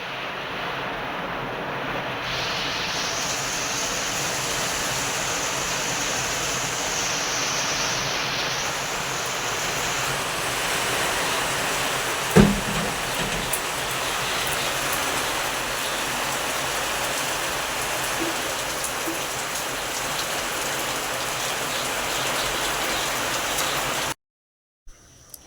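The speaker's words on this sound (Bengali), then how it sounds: "দেখো কিরম মুষুল ধারায় বৃষ্টি হচ্ছে।" Heavy torrential rain pours steadily outdoors, a dense continuous hiss like rushing water that stays loud and even throughout, with one sharp knock midway before it cuts off.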